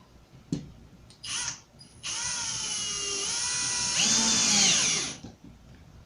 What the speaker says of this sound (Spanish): Ahora vamos a unir con dos tornillos autoenroscantes de 1 y 1/8 de pulgada.